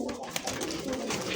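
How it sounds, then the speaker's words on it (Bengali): A Gorra breed pigeon gives a short, soft coo, close by and on its own with no talk. "এটা কিন্তু গররা কবুতর"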